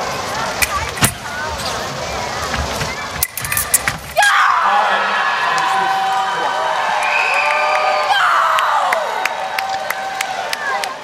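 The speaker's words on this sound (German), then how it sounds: "Das war kein verzweifelter Schrei, sondern das war schon Erleichterung." At a world fencing championship, an athlete lets out a loud, sustained scream of relief, followed by cheering from the crowd and a commentator's voice over the arena noise.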